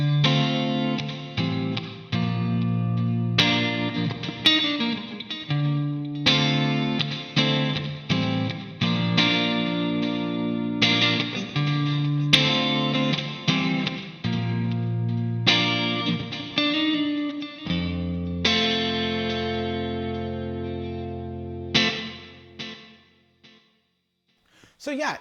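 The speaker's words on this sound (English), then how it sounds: "if I move to the neck position here, it's got that nice stratty tone to it" Fesley FST-350M electric guitar played on the neck pickup with a strat-style tone, strummed chords and picked notes with light effects, sustained and fairly close, played alone without talk.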